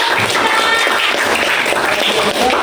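A classroom group applauds after a student presentation during a teaching practice session, producing dense, even clapping that holds steady for a few seconds with little talk.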